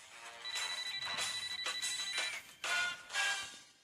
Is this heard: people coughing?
no